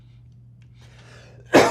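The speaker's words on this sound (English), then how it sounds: "I'm not coughing because of heat." A single sharp cough bursts out near the end after quiet breathing, loud and close, as someone reacts while tasting a spicy corn sauce.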